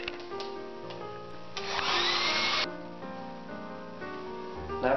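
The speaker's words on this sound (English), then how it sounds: "now we go back to our hairdryer" A handheld hairdryer blows over wet paint with a steady whooshing rush that swells for about a second midway, then drops back to a quieter hum among faint room sounds.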